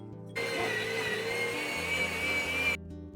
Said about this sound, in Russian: Отправляю в мясорубку.